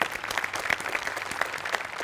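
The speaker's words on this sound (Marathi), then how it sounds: "त्याच्यासाठी एकदा टाळ्या" Live studio audience applauding a Marathi comedy skit, a dense steady wash of clapping with sharper individual claps standing out, moderately loud and continuous throughout.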